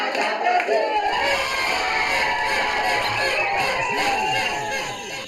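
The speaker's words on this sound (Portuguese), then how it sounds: "Minutos antes da bola rolar, a animação já estava grande, com a torcida no estilo." Football fans in a stadium before a Maranhão versus Paysandu match, a loud massed crowd roaring, chanting and cheering together in a continuous wall of voices.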